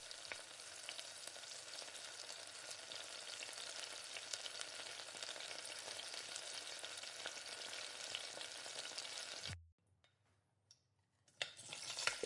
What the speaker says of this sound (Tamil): இஞ்சி பூண்டு விழுது இதையும் இது கூட சேர்த்துட்டு நல்லா பச்சை வாசனை போகிற அளவுக்கு நல்லா வதக்கிக்கணும்